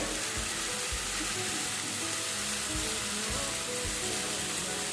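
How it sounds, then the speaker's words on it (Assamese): Boiled red lentil dal hits a hot pan and is stirred, giving a steady, close wet sizzle and bubbling hiss with soft low stirring bumps throughout, no voices. "মচুৰ দাইলখিনি ইয়াতে ঢালি দিলোঁ আৰু এইখিনি ধুনীয়াকৈ লৰাই দিলোঁ"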